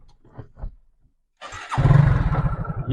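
A motorcycle engine cranks and catches after a brief quiet moment, then settles into a loud, close, throbbing idle; a few faint sounds come before the start.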